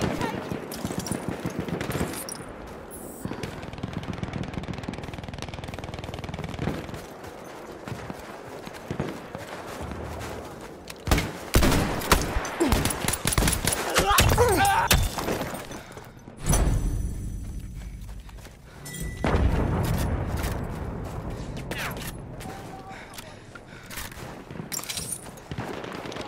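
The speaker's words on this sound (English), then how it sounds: "Machine gun! Look lively! Machine gun! Hostile!" Machine gun fire in Battlefield 1, with dense bursts of shots and hooves clattering through a loud, busy battle that keeps going the whole time, and voices shouting over it.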